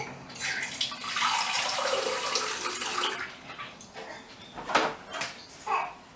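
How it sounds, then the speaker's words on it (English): Water from a one-cup measure is poured over paper towels cut into thirds inside a container, a soft continuous splashing and trickling for several seconds that ends in a few faint, uneven drips and sloshes. "you pour your water over your paper towel nice and evenly so you get the whole thing wet"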